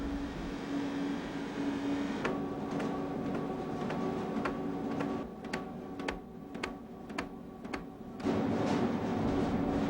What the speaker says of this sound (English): This equipment adjusts the positioning of the print by adjusting the tension of rollers in the press.